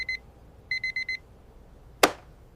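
A bedside alarm clock beeps in two quick bursts, one short pulse and then a run of about five rapid electronic beeps, followed by a single sharp knock or tap nearby.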